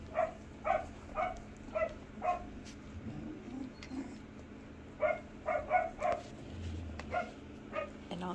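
Bordoodle dogs bark in short, sharp bursts as they play. The barks come in two quick clusters with a lower growl or whine between them, close and moderately loud.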